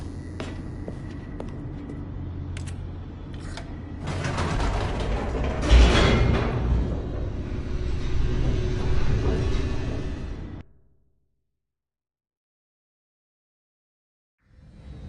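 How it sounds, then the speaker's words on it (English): An elevator descends in The Stanley Parable with mechanical grinding and creaking that swells into a loud rumbling rush, then cuts off abruptly into silence near the end. "The elevator raced downward,"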